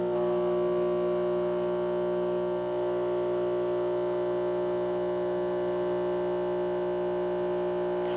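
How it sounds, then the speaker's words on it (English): A DeLonghi La Specialista Opera espresso machine's vibratory pump runs in a loud, steady droning hum that holds constant throughout, with no talk over it. "it's a little loud. You can hear the vibratory pump."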